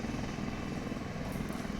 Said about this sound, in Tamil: விமானப்படையின் ஹெலிகாப்டர்கள் மீட்புப் பணியில் ஈடுபட்டு வருகின்றனர்